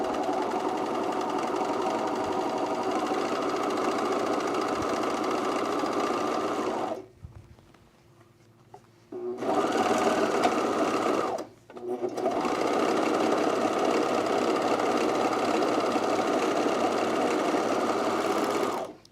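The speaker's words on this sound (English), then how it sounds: "I'm just going to overlock this edge of the bottom of this pocket facing here." An overlocker sergs the bottom edge of a pocket facing, running loud and close in a steady buzzing whir for several seconds, stopping, giving a short burst, pausing again, then running on without a break.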